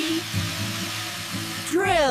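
A power drill whirs in a steady, buzzing drone for about two seconds, close and fairly loud, with a voice rising over it at the end.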